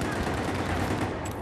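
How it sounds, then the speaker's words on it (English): Sniper and gunfire in the Battlefield 4 video game form a dense, continuous burst of loud shots and crackle with no pauses. "Sniper fire still"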